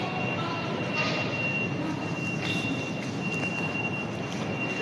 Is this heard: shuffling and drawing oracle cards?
no